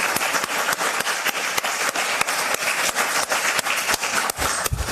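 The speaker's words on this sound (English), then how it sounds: "Please give them a really wonderful round of applause." Loud, sustained applause from an audience for a forum's planning committee, dense clapping with sharp individual claps standing out throughout, no talking.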